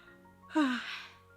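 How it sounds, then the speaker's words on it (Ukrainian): A soft, close yawn is voiced by a narrator reading a Ukrainian children's story, a single rising then falling breathy sigh heard alone over a quiet hum. "Малий солодко позіхнув"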